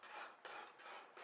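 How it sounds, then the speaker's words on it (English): Up close, a hand file rasps across the bevel of a steel machete blade in three quick, even strokes with short pauses between them, quiet and alone without voices. "still filing."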